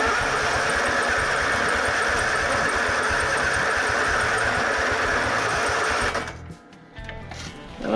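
An Exmark zero-turn mower with a budget electrical fault cranks and sputters steadily, a loud continuous mechanical churn that cuts out abruptly near the end, leaving a brief quiet before it stirs again.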